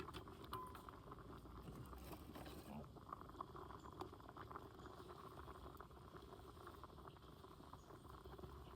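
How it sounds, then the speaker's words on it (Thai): Chicken drumsticks simmer in Pepsi with a faint, steady bubbling and light popping that goes on without a break, and a voice speaks quietly over it. "เคี่ยวต่อจนเปื่อย เลย เนาะ เดือดแล้วครับ"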